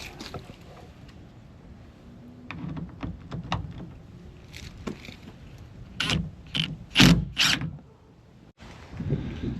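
A ratchet clicks in short, sharp bursts while removing Torx screws from a Mercedes van, the clicks getting louder and closer toward the end, with no talking over them.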